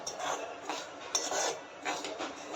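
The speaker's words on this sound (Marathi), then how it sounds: "सर्वप्रथम मी आता रवा भाजून घेते" Dry semolina roasts for Maharashtrian-style upma while a spatula scrapes and rasps across the pan in soft, repeated strokes, quiet and close.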